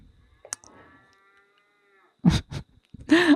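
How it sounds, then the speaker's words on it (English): A cow moos in the background, giving one drawn-out low call and then a second louder moo after a short break, with a brief click or knock just before. "I don't know if you could hear that cow in the background"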